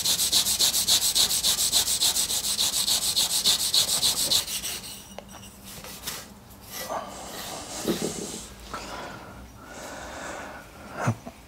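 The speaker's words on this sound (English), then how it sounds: "We'll go on the Scotch-Brite." A Scotch-Brite abrasive pad rubs on metal in quick, rhythmic back-and-forth scrubbing strokes for a few seconds, followed by quieter handling noises and scattered knocks.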